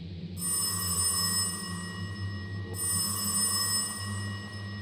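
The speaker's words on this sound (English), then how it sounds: "Just then, the phone rang." A telephone rings as a story sound effect, two bursts of bright electronic ringing with a short gap between them, loud and alone with no talk over it.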